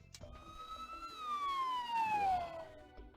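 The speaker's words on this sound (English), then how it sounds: "Those police cars, they're heading towards Aoyama." Police car sirens in the video game Devil Survivor wail with a single falling tone that sweeps downward and fades, heard clearly without talk.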